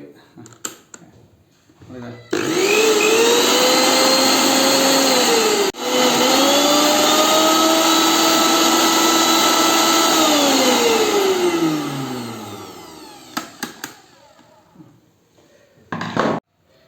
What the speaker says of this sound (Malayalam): മിക്സി നല്ല വർക്കിംഗ് കണ്ടീഷനിലാണ് നല്ല സ്മൂത്ത് ആയിട്ടുള്ള വർക്കിംഗ് കൂടിയാണ്